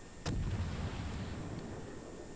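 A warship's guns fire in World of Warships, one sharp booming report followed by a heavy rumbling roll that lingers under steady engine and sea ambience.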